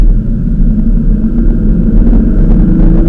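A Subaru BRZ with a manual transmission pulls away in first gear, its engine a loud, close, steady rumble that holds even throughout.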